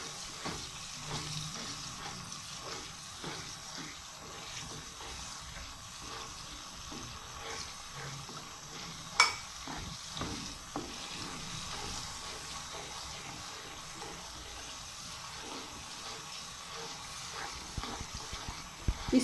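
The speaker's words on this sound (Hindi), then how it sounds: "हल्का सा पानी का छट्टा लगा देते हैं" Chana dal frying in a pan after a light splash of water, giving a steady, fairly quiet sizzling hiss throughout with one brief sharp pop midway in a home kitchen.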